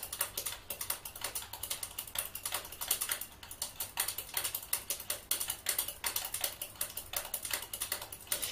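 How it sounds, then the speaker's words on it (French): A small container of hyaluronic acid cream is shaken steadily, producing a fast, even rattling clatter that continues close and unbroken throughout. "Donc on continue à agiter pour bien mélanger notre acide hyaluronique."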